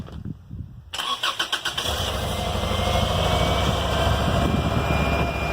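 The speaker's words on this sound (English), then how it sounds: "I hear solenoids and the starter." After a brief quiet moment, a dune buggy's starter cranks in rapid pulses, then its engine catches and settles into a steady, loud idle nearby.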